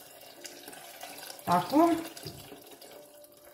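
A little water is poured into a small pot holding chopped pomelo, a brief, soft splash lasting about half a second in a quiet kitchen. A single short word is spoken nearby.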